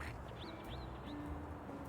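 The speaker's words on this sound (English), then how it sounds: "Poor Duck Dad, just listening to that all day" Faint ducks quack a few times in the video game Little Kitty Big City, small squawks over a low ambient background.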